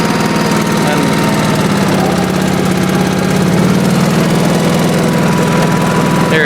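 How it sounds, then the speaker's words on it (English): A 1986 Honda HT3810 riding lawn mower drives along in fourth gear, its engine giving a loud, constant rumbling drone with a slight shift in tone partway through. "Pretty fast in fourth gear"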